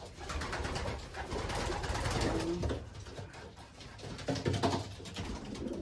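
Several racing pigeons in a loft give low, throaty coos at close range, overlapping calls layered over a constant murmur of the flock.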